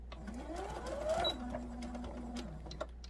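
A sewing machine stitching fabric for a handmade woodland gnome, a faint, steady mechanical whir with a low hum, close by in a quiet room.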